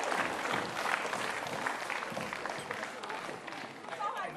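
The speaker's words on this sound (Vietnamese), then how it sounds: "Chúng ta dành một tràng pháo tay cho anh Tự Long." A studio audience claps in sustained, dense applause at a live Vietnamese VTV3 anniversary television show, loud and continuous throughout with crowd noise mixed in.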